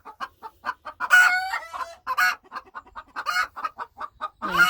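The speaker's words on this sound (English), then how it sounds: "all the hens and chicks are making an awful noise right now" Hens and chicks clucking together in a coop, a dense run of short rhythmic clucks with a few louder squawks mixed in, close and continuous with no voices.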